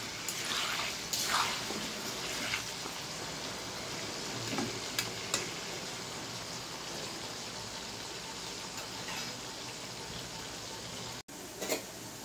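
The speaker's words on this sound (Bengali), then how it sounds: "তারপর একটু নেড়ে নিয়ে একটু লাল লাল করে ভেজে নিতে হবে।" Potatoes frying and being stirred in a pan for a chicken curry, a soft steady sizzle running throughout with scattered scraping stir strokes, fairly quiet and close, no voices.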